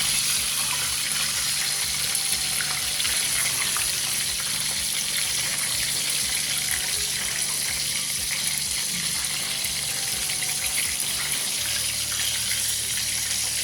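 Chicken pieces frying in hot cooking oil, giving a loud, dense, steady sizzle that crackles without a break from start to finish, with no voices over it.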